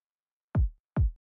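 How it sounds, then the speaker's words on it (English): Two punchy Big Crunch kick drum hits from a sample pack, deep and booming, spaced about half a second apart, loud and alone after a short silence. "This kick sounds like this."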